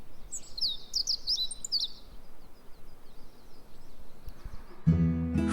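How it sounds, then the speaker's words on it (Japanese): Small birds chirp and twitter in quick bursts on a mountain village morning, fairly close and clear over a soft outdoor hush, ending with a sudden louder low rumble. "小鳥のさえずりが響く山里の朝。"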